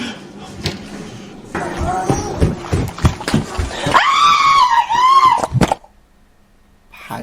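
A shrill, sustained scream rings out in a scary haunted-house scene, rising and wavering for about two seconds after a stretch of thumps and muffled voices, then cutting off into near silence.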